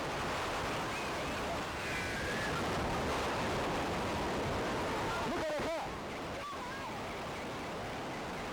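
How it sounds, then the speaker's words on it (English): Tsunami water of 2004 sweeping in on Penang beach, a steady roaring wash of surging water with wind noise on the microphone, plus a few brief faint cries or voices partway through. "Moments later, the water sweeps everything before it."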